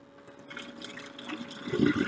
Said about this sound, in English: I'm going to come over to the sink, and I'm simply just going to drain the water out